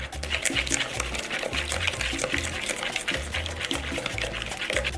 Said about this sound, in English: And we're gonna whisk this together.